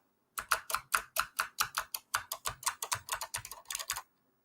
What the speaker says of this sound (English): I'm trying just every couple of key combination I can.